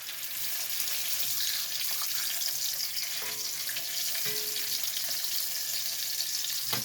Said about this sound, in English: Drop it in there. Put a little oil on your spatula.